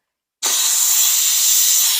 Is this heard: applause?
no